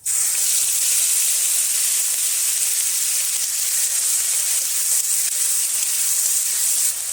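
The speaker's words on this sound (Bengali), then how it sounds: "একই তেলে দিয়ে দিচ্ছি কালো জিরে, পেঁয়াজ বাটা, লঙ্কা বাটা" Nigella seeds with onion paste and chili paste dropped into hot frying oil left from frying fish, giving a steady, loud, close hiss and sizzle that holds evenly throughout with no talking.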